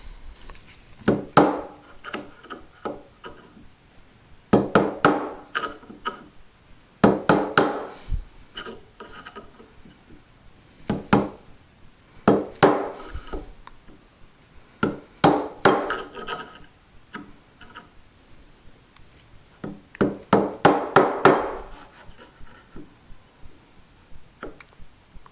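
Chisel chopping a mortise in wood with a jig on a workbench, heard as several bursts of sharp mallet strikes and chopping knocks separated by short pauses, close and fairly loud.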